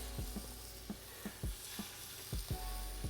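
Quiet steady sizzle of shrimp frying in an oiled hot pan, punctuated by a series of soft clanks and scrapes as it is stirred.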